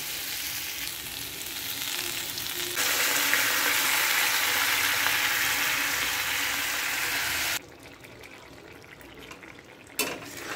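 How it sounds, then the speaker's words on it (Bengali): Water is poured into a hot pan of sautéed vegetables and split chillies for a fish roe curry. A loud hiss and sizzle runs for several seconds, then drops away, and a brief clink of utensils follows. "কষানো হয়ে গেছে, এবার দিয়ে দেবো জল।"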